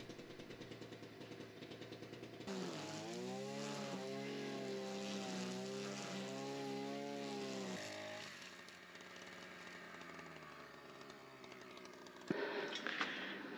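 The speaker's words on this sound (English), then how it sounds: "it's back to the strimming, but now with some funky protective gear" A string trimmer cuts garden vegetation on rural land in Portugal, a whining two-stroke engine that rises into a sustained high-revving drone with wavering pitch and then drops back, heard alone with no talk.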